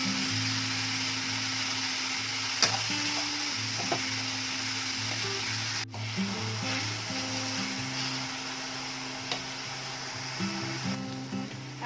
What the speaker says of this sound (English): Add green chilli.